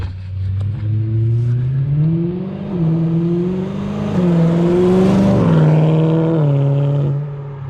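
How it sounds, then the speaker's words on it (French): BMW M3 engine revving loudly with a straight pipe fitted, pitch climbing and dropping repeatedly as gears change up and down, close and continuous with no talk. "Il y a 42 vitesses dans la voiture."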